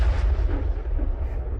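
A heavy cannon shot from the Big Bertha gun in Space Engineers lands as a loud, deep boom that rolls into a low rumble and lingers with no voices over it.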